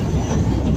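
Blackpool standard tram no. 147 runs on rails leaving the North Pier stop, a loud close low rumble and roll of wheels with a steady mechanical drone.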